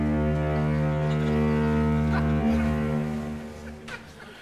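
A foghorn at a foghorn factory next door gives one long, loud, deep blast that holds steadily for several seconds and then fades, heard alone.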